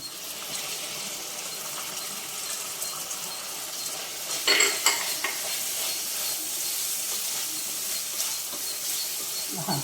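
Beans and carrots frying in a pan, giving a steady close hiss of sizzling with a brief burst of stirring around the middle, moderately quiet.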